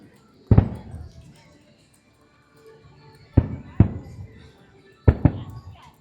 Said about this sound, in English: for the fireworks show.